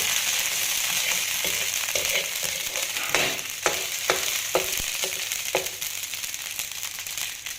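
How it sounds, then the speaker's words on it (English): About a teaspoon of garlic fries in a pan with a constant close sizzle. Spoon stirs, scrapes and clinks break in at irregular moments. "we're going to add just a little bit of garlic, about a teaspoon. Put those in."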